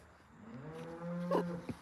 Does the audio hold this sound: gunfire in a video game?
no